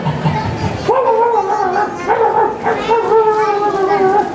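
A puppeteer voices a stuffed toy puppet dog with a run of loud yipping, whimpering barks in quick succession, a human voice imitating the dog close to the listener at a live international puppet show.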